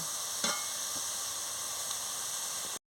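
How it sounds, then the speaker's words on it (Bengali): Papaya chutney with cardamom stirred in a pan, a steady soft sizzle and frying hiss filling the clip with a few faint scraping strokes of the spoon, no talk. "এলাচ দিয়ে দিচ্ছি, দিয়ে ভালো করে নাড়িয়ে নিচ্ছি।"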